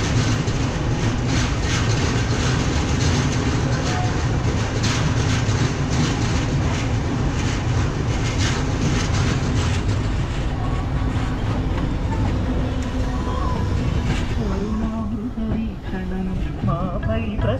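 An express train pulls out of platform 4 at Visakhapatnam Junction, a steady loud low rumble of wheels and carriages rolling continuously with rhythmic rail clatter, easing slightly toward the end.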